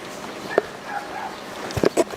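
A dog barks a few short, sharp times during a police encounter outdoors, the yips coming near the end over faint background noise.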